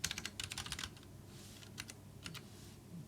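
Fingers tap on a computer keyboard during coding, in quick bursts of close, crisp keystrokes separated by short pauses, with no voice over them.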